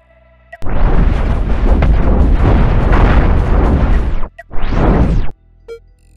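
Ship cannon fire and explosions in the space combat game Cosmoteer roar loud and dense for several seconds, a long rumbling barrage that stops, then a second shorter burst follows.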